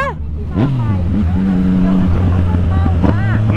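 A motorcycle engine revving hard during a wheelie with a passenger on the back, loud and close with a droning pitch that rises and dips, as people shout over it.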